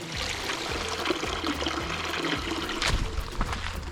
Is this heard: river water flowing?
yes